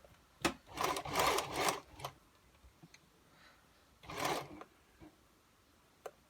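A sewing machine stitching small gathers into fabric for a gypsy skirt, running in two short bursts of rapid whirring with light ticks and clicks between them, close and clear.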